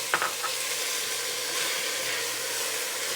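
Onion, pimento and ginger sizzle in hot mustard oil with cumin and fenugreek seeds, a steady close frying hiss with a few brief stirring clinks at the start.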